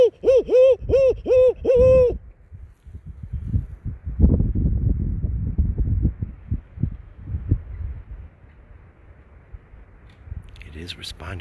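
An owl hoots outdoors on a windy spring night, a short run of rhythmic tonal hoots at the start, followed by strong gusting wind noise rumbling and rustling for the rest.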